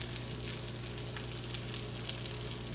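Steady crackling sizzle of food frying in a pan on a wood heater, a constant dense hiss with tiny pops throughout, close up and continuous.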